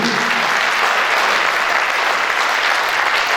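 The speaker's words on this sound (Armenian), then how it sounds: "Այնպես որ առաջարկում եմ ծափահարենք մեր բոլոր հայրենիքի նվիրյալներին" Sustained applause from a large crowd, dense and even clapping filling the whole stretch without pause.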